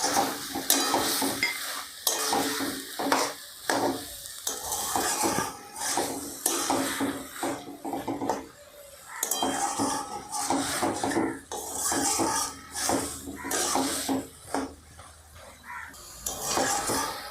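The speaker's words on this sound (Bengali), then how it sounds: "নেড়ে চেড়ে ভালো করে কষতে হবে।" Malabar spinach (pui shak) is stirred and dry-fried with spices in a pan, with steady scraping and clattering strokes of a spoon against the pan over a soft sizzle, continuous and close.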